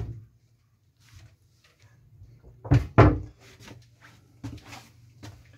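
The wooden cabin door to the saloon of a 2007 Bavaria 37 Cruiser yacht opens with a pair of close hollow knocks and thuds, followed by lighter clicks over a quiet low hum.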